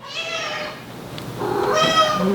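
A pet cat meows twice indoors, a short harmonic cry followed after a pause by a longer, louder, rising meow, close to the listener with no talking.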